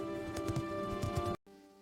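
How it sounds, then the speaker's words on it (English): A horse runs fast across an open field, with a steady patter of hoofbeats under a tonal hum that cuts off abruptly near the end. "The horse runs fast across the open field."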